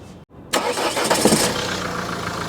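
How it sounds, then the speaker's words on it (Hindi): A used 2015 car's engine starts after a brief cranking whir and a short silence, then catches and settles into a steady, close idle. "इसका इंजन साउंड भी देखिए बिल्कुल महीन है"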